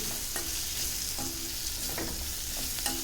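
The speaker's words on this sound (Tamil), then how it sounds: "வதக்கிக்கலாம்" Chili powder sautéing in a pan while making radish sambar, with a steady sizzle and spoon-stirring scrapes throughout, close and continuous with no talking.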